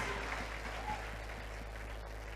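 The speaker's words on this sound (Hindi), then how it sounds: "जोरदार ताली बजाकर" Loud applause from a church congregation, a dense steady patter of clapping that holds for a couple of seconds without a break.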